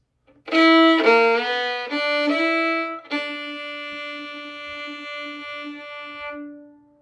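Slide instrument playing the closing phrase of the melody: a few clear sustained notes, the last one held long and fading out, played alone.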